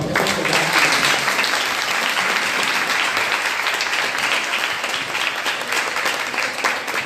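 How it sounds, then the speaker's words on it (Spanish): An audience at a talk and contemporary dance event gives the speakers a strong round of applause, dense and loud, sustained without a break from start to finish. "le damos un fuerte aplauso por favor"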